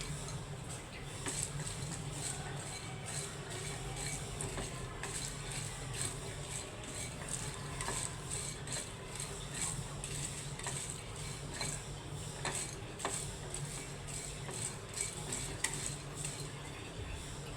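Cardamom pods dry-roasting in a pan on low heat are stirred steadily, giving a continuous faint rattle and scrape with light metallic clinks throughout, close by and without speech.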